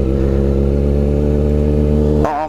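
A super sport motorcycle engine holds a loud, steady high-rpm drone with strong harmonic tones, close to the listener, then the pitch drops and wavers abruptly near the end.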